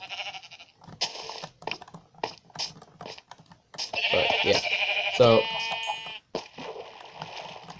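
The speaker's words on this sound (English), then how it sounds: "Ooh, another sheep." Sheep bleating in the video game Minecraft, a drawn-out bleat in the middle amid keyboard typing, with a person speaking briefly around it.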